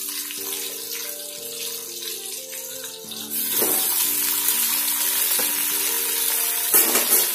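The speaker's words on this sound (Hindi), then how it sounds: "अब इसमें डालूंगी ये सारी जो वेजिटेबल है ये डालूंगी" Vegetables for a Sunday lunch drop into a hot pan, and a loud, steady sizzle takes over from the quieter hum, with occasional stirring scrapes over the frying.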